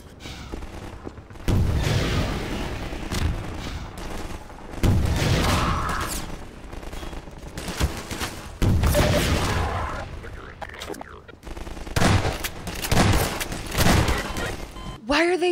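Gunfire in the video game Half-Life 2 comes in several heavy bursts separated by brief lulls, loud and near, with people talking over the shooting.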